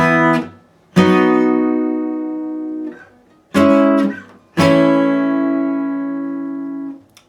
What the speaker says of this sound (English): So part 2 will sound like this.